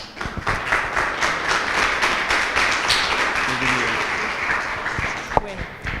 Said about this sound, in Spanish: vamos a recibirla con un aplauso para el Señor